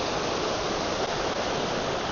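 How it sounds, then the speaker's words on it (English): A cold, clear mountain creek in the Colorado Rocky Mountains rushes close by, a steady broadband wash of flowing water with no pauses and no voices. "I have this excellent creek right out my back door."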